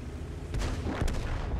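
Tank cannon fire in World of Tanks, two booming shots about half a second apart over a steady battle rumble, moderately loud and without talk.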